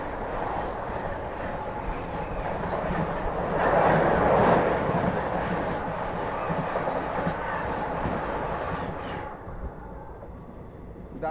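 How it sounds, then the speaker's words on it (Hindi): The Darjeeling Mail passes alongside the moving Kanchanjunga Express, train 13176, in heavy rain, a loud close rumble and rattle of wagons with rail clatter that swells midway and then drops off as the train clears. "दार्जिलिंग मेल हमें क्रॉस करके आगे बढ़ते हुए।"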